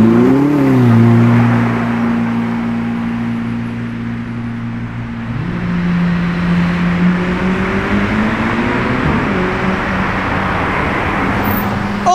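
A Ferrari SF90 revs hard and drives past, its engine note rising and falling in pitch as it moves by, loud and close, with street traffic noise behind it and no talking.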